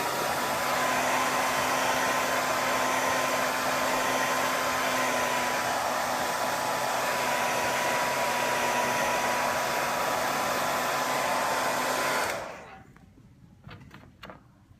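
A heat gun blows steadily and loudly while warming the cracked screen of an iPad Air 2, a continuous whooshing roar that holds for about twelve seconds before cutting off, followed by a few faint handling clicks.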